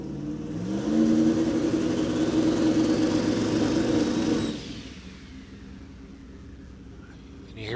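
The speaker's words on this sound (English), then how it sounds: "You hear Gennarelli getting it spun up there" Drag racing event: a race car engine revs at the line, a loud rising then sustained low drone with a steady buzzing tone for about four seconds before it drops off sharply to a quieter rumble.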